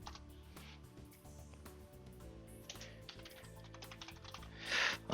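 A command is typed into a terminal on a computer keyboard, quick irregular key clicks, quiet and close, with a few sharper taps near the end and no speech.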